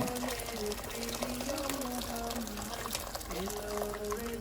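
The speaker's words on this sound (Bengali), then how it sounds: "পানিটা আমি একটু বেশি হলে দিলাম, কারণ আমি স্টক বানাইমু" Hot water poured from a kettle into a pot to make stock for mutton yakhni pilau, a soft, continuous pour with a gently shifting gurgling pitch, running quietly throughout.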